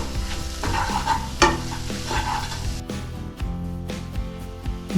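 Spice powder stirs through a frying potato curry, a loud close sizzle broken by repeated scraping strokes of a spoon against the pan.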